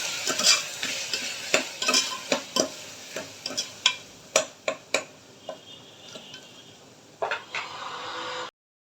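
Spoon stirring kasuri methi and pulao masala into veg pulao, producing repeated close scraping clinks over a steady sizzle that cuts off abruptly near the end.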